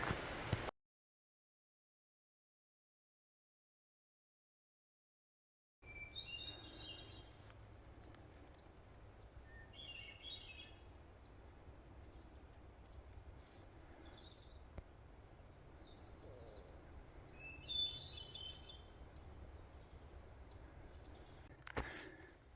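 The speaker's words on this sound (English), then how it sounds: "Those wood thrushes, if you listen to different ones, they each have different styles" A wood thrush sings fluting, repeated phrases at a distance over a low steady rumble, with a few seconds of silence at the start.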